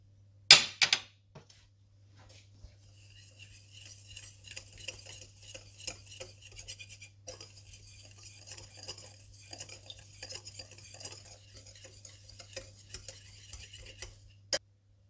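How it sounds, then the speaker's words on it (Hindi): Spice powders including chicken powder, tartaric acid and Chinese salt stirred together by hand for a grill and barbecue masala, a spoon scraping and clinking steadily against a bowl after a sharp knock at the start. "चिकन पाउडर टाटरी और चाइनीज़ साल्ट डालकर अच्छी तरह से मिला लें"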